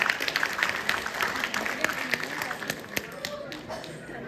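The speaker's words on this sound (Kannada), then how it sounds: "ಜೋರಾದ ಚಪ್ಪಾಳೆ ಕುಮಾರಿ ಮೌಲ್ಯಾರ್ ಅವರಿಗೆ" Applause at a Deepavali celebration of a Kannada association, for a young speaker: a crowd claps in a dense, uneven patter of taps throughout, continuous and moderately loud, easing slightly toward the end.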